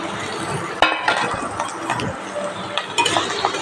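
Chopped ridge gourd tipped into a pan of golden fried onions and stirred, giving close clinks and scrapes of a utensil against the pan amid a soft frying hiss.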